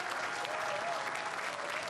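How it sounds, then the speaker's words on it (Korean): Loud, dense applause from a crowd at a 2022 South Korean presidential election results event, a steady unbroken wash of clapping throughout with faint voices mixed in. "박수 소리가 터져 나왔습니다"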